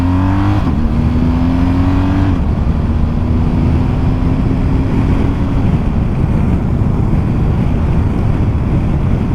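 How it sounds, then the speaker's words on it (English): A car drives along with steady road and engine rumble, strong wind buffeting the microphone, and a rising engine tone early on before the noise evens out. "Okay, I'll just get around this car."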